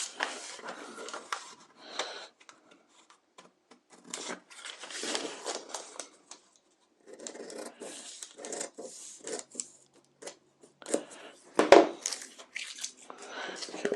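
Scissors cutting out the placket seam allowance on a paper men's shirt pattern, bursts of close crisp snipping and crinkling paper separated by short pauses, one sharp louder crunch near the end.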